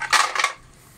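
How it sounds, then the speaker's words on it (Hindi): Ice cubes drop into a blender jar as a quick pair of sharp, rattling clatters, close and clear, followed by quiet. "आइस क्यूब हमने डाले हैं जी"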